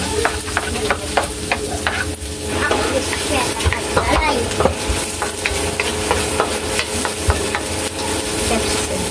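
Garlic fries and gets stirred in a pan at the start of a giniling dish with sotanghon and sayote, a close, continuous sizzle broken by repeated scraping taps of a utensil.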